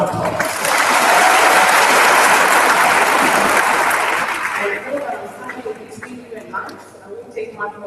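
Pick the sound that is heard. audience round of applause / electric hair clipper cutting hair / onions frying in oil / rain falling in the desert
audience round of applause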